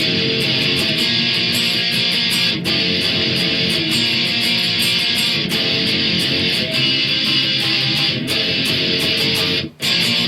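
An electric guitar plays a chorus with loud, steady strummed chords. The rhythm stays regular and continuous, with no voice over it.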